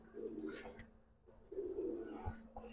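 Giribaz pigeon pair cooing in two soft, low rumbling bursts over a steady background hum, close by and moderately quiet.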